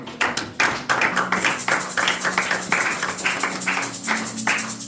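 Congregation in a French-speaking church service claps together in a steady rhythmic beat, loud and close, for several seconds after the sermon reading.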